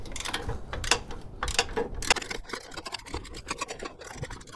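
A rear bumper bracket bolt is worked loose on an 84-2001 Jeep Cherokee XJ, with close rapid ratchet clicking and scraping metal in uneven bursts, no voices.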